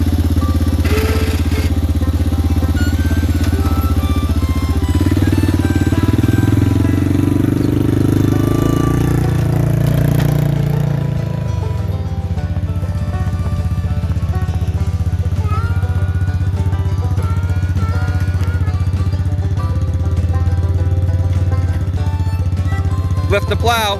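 A Honda Fourtrax 300 ATV fitted with tire chains runs close by, its engine holding a loud, steady low drone with a shift in pitch partway through.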